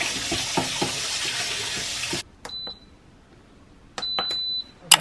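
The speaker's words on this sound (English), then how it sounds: "Rice always takes so long, so I'm gonna quickly clean it and put it in the rice cooker." Rice being washed under a running kitchen tap before going into the rice cooker, a loud steady water rush for about two seconds, then quiet with a few short clicks and beeps and a brief second burst.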